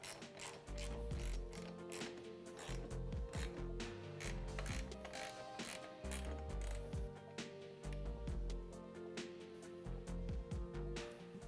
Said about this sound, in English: you can go back through and tighten down all the hardware